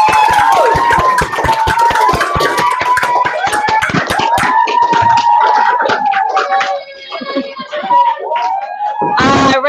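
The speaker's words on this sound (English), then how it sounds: "so can we all give her a round of applause?" An audience at a school applauds a departing teacher, with scattered clapping mixed with high whoops and cheers that stay loud for several seconds before tapering off.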